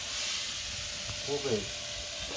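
Sliced onions and green chillies sizzle steadily in a hot pan with a constant bright hiss, a brief stirring scrape breaking through near the end.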